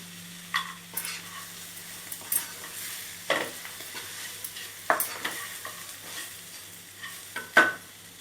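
Masala for an Andhra country chicken fry cooks in a pan with lemon juice and cashew nuts over a soft sizzle, as a spatula scrapes and clinks against the pan in irregular strokes.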